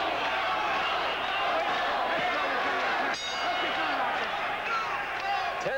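Boxing crowd at a fight in Atlantic City roaring and yelling continuously, a dense wall of voices close and loud throughout, with a brief dip and surge midway.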